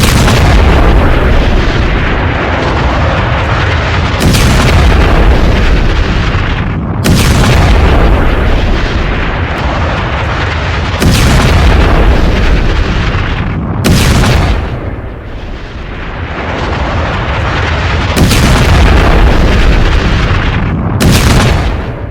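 Heavy explosions from an Israeli attack in Lebanon boom out one after another at irregular intervals, each a loud broadband blast whose rumble rolls on and fades before the next strike, with no voices.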